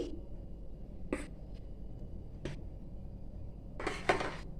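Small clay yoghurt pots are set down one by one by hand onto a plate, making three or four sharp ceramic knocks spaced apart in a quiet room.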